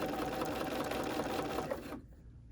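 A BERNINA sewing machine runs fast stitching a seam on fabric, a close steady mechanical whir that stops abruptly near the end, leaving quiet.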